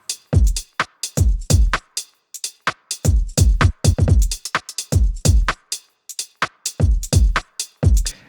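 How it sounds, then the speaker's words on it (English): A sparse drum beat of kick, snare and hi-hats plays alone, with punchy low kicks and crisp hits in a steady groove, separated by short gaps of silence. "I could have built this beat just with these 3 elements: kick, snare, and hats."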